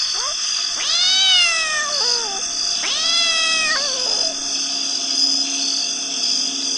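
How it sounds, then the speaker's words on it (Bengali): A big jet-black cat in a cartoon horror story gives two long, drawn-out wavering meows, loud and close, separated by a short pause over a faint background hum. "আমাদের পিছু পিছু আসছে আর মিউ মিউ ডাকছে।"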